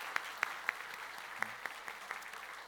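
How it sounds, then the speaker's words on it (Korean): A small church congregation claps, scattered sharp claps over a steady patter, fairly faint and distant. "여러분 다시 한번 박수 한번 해주시기 바랍니다."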